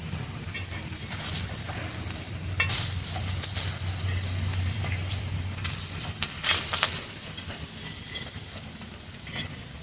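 Onion and tomato slices frying in a pan with a little salt, a loud steady sizzle with crackling bursts and spatters throughout.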